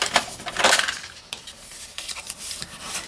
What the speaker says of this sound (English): let's fold and burnish